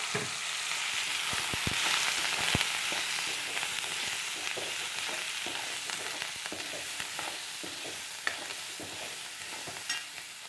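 Chopped shallots, coriander leaves and green chillies frying in a pan for chicken curry, giving a continuous soft sizzle with intermittent scraping and stirring knocks throughout, moderately quiet and without talking.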